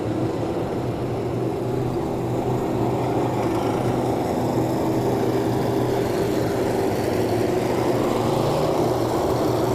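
Stock car engines on a parade lap at Maquoketa Speedway drone steadily at close range, a dense continuous rumble like several cars rolling past together, with no talk heard.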